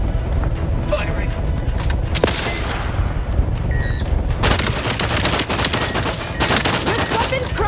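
Dense gunfire from The Outer Worlds 2 played on Xbox, loud sustained bursts and booms filling the whole stretch, with game voices and effects mixed in.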